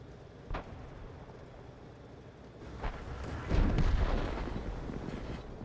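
Tank cannons firing in a tank battle video game, a few booming shots spaced apart, with a heavier, longer blast near the end over a low rumbling background.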